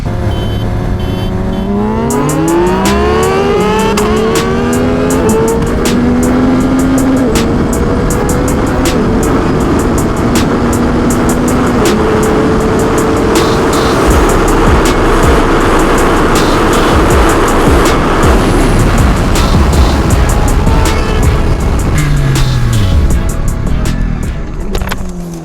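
Two 2025 Yamaha R9 sport motorcycles accelerate hard through the gears. A loud, close engine scream climbs in pitch, drops at each upshift, then climbs again, running continuously throughout.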